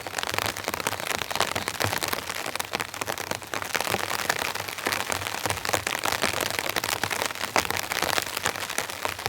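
Steady heavy rain patters densely on a tent nearby, a continuous crackling hiss of countless drops with no voices.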